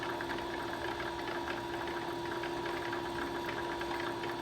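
A domestic sewing machine running steadily, a fine rapid mechanical chatter over a constant motor hum, fairly quiet and close with no voices.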